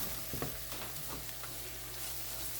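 Ground paprika, coriander and turmeric being stirred into a hot frying pot for ground beef keema, with a steady sizzle and a few soft scrapes of the spoon, close and continuous.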